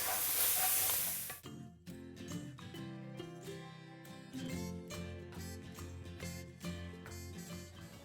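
Prawns sizzling in a hot wok as Shaoxing Chinese cooking wine is poured in to deglaze, a loud hissing burst that cuts off after a second or so, leaving quieter pan noise under background music.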